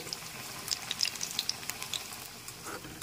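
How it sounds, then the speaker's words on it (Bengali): Cabbage pakoras deep-fry in hot oil, giving soft scattered crackles and small bubbling pops over a faint background, fairly quiet and close. "এখন এখানে পকোড়াগুলো আমি ভেজে নিচ্ছি"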